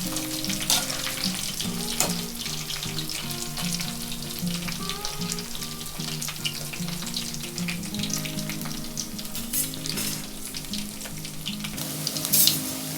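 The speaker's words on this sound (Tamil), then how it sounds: "இப்போது ஒரு கொத்து கருவேப்பிலையை அதில் போட்டிருக்கேன். அதையும் நல்லா பொரிஞ்சு வரட்டும்." A bunch of curry leaves crackles and sizzles in hot oil for cabbage pakoda, a continuous close frying hiss with occasional sharper pops and a faint stir near the end.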